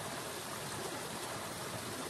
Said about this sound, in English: it's only a little brook